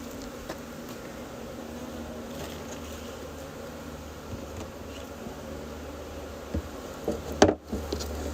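Agitated honeybees swarming around an open hive during an inspection, a steady close buzzing drone that runs throughout, with a couple of knocks near the end.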